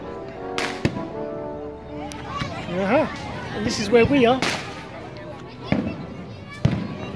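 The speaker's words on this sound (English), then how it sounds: "they're just letting off fireworks" Sharp bangs and crackles of fireworks pop intermittently at a distance during the August festival in Elche, Spain, with people talking over them.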